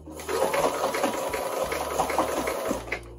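Domestic sewing machine zigzag stitching knit fabric for a top, running in a steady continuous whir with rapid needle rhythm, close and fairly loud with no talk.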